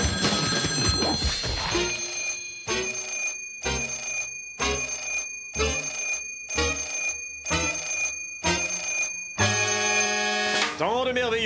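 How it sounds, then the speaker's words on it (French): Telephone in the Sam & Max video game ringing in a steady series of about nine evenly spaced bursts, loud and up close, with a game music bed underneath. "on avait toujours ce coup de téléphone."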